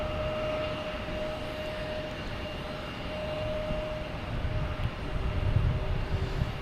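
A Swiss Air airliner departs Boston Logan Airport, its engines a steady, distant jet roar that builds gradually, with a constant high whine carried over the low rumble and no talk.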